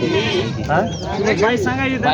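Goats bleating nearby in short wavering cries at a large goat and sheep market in Maharashtra, mixed with people talking loudly over them.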